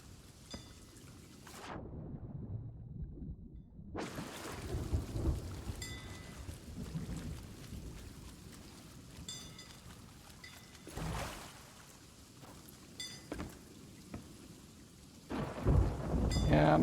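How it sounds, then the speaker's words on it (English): A video game thunderstorm brings steady rain hissing on surfaces, with deep thunder rumbles rolling in and swelling several times, one loud crack near the end, and no voices. "I'm listening out as best I can with the storm."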